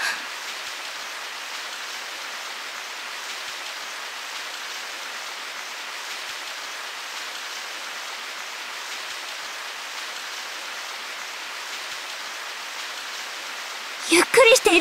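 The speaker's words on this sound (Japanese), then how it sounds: "すごい雨になっちゃった" Heavy rain pours in the video game Sword Art Online Hollow Fragment as a dense, even hiss that continues unbroken, with a brief different sound at the very end.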